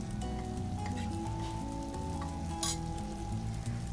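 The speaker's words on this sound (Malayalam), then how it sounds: "ഇനി നമുക്ക് മഞ്ഞൾപ്പൊടി ഇട്ടൊന്ന് വഴറ്റി കൊടുക്കാം" Turmeric powder sautéing in a frying pan while duck curry is made, a soft continuous sizzle with light stirring scrapes, fairly quiet.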